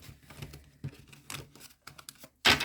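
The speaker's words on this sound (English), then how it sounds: "Now, one more shuffle." Crisp papery riffling and soft slaps of tarot cards being shuffled in quick bursts, ending in a sharper flurry of cards snapping together.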